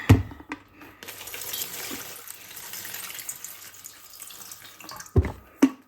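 Water runs steadily from a tap into a pot for several seconds, a continuous hiss with a couple of clunks at the start and end.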